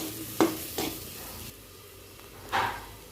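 Curry leaves drop into hot oil in a pan while sago pulao is being cooked, giving a few short bursts of sizzling and stirring over a quiet, steady frying hiss, with no talking.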